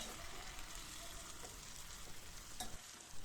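Tomato pieces go into onions frying in oil and are stirred, a continuous soft sizzle with a few faint spoon scrapes, quiet and steady without speech.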